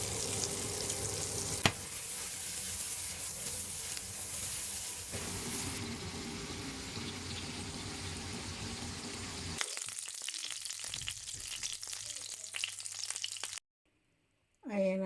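Pork belly frying slowly over low heat in a pan, a steady dense sizzle that runs unbroken for most of the span, thins into sparser crackles near the end and then briefly cuts out.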